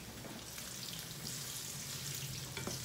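Tofu fries in a pan with a soft, constant sizzling hiss and faint crackles, quiet and steady with no voices.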